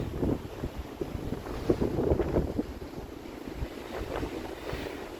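Wind buffets the microphone in a steady, rumbling roar with gusty surges during a walk on the Punta del Este peninsula in Uruguay; no voices are heard.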